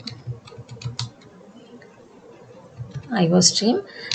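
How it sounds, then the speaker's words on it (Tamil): Quick keyboard keystrokes tap out a C++ statement on a computer, a short burst of clicks near the start before a voice speaks over a quieter background. "இதில் போய்ட்டு ஸ்டேட்மெண்ட் டைப் பண்ணணும்."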